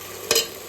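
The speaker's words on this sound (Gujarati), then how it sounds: "એમ હલાવી નાખવાનું." A single quick scrape of a spoon stirs moong dal and rice khichdi in a village pot, a brief close swish over a faint background hiss.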